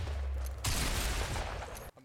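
Assault rifle fire in the Fortnite video game: a sudden rapid burst of shots bursts in after a quieter stretch, loud and continuous for more than a second before cutting off abruptly.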